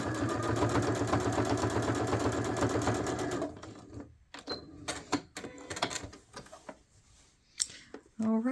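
A sewing machine stitches a hexi flower sweatshirt, running in a steady, rapid close-up whir for a few seconds before stopping. Scattered clicks and fabric handling follow.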